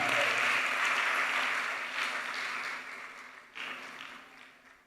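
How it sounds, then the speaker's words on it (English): An audience at an evening youth event claps together, a steady wash of applause that holds strong at first, dips, briefly swells again near the end, then fades. "Let's clap our hands."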